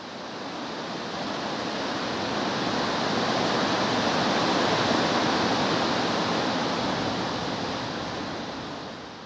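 An Icelandic waterfall roars as a steady, broad rushing wash of falling water, loud and unbroken throughout, swelling slightly in the middle with no voices.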